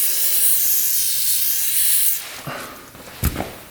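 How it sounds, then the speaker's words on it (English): Penetrating oil is sprayed from a can onto a badly rusted part of a Suzuki Quadzilla 750cc quad in one close, steady hiss of about two seconds. The spray cuts off, followed by a few soft clunks and knocks. "Get some penetrating oil in there."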